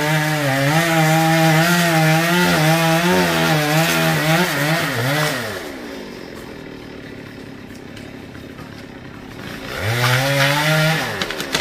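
A chainsaw cuts down a large Còng tree beside a house, the engine loud and close, revving and wavering under load, easing to a lower idle midway, then revving up again near the end.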